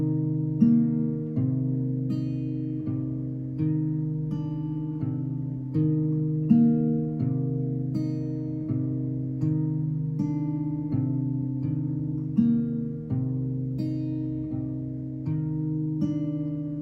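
A slow fingerpicked acoustic guitar pattern loops continuously, with plucked notes ringing over sustained bass strings at an even, unhurried pace, played close and alone.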